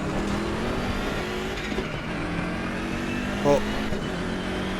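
BMW race car in the ACC racing game at Monza, its engine droning steadily and loud throughout with a brief bump near the end, under a little talk.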